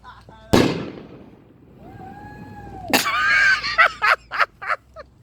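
Fourth of July fireworks go off outdoors, a sharp near bang followed by a whistling rocket, then a burst of rapid crackling pops, with people talking and cheering around them.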